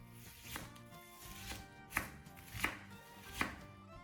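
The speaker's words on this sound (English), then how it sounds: "Cut off the root, peel off the outer skin, then cut it into medium-sized pieces." A knife chopping a peeled onion into medium pieces on a board, with a handful of crisp, evenly spaced cuts sounding close and fairly quiet, each a sharp knock.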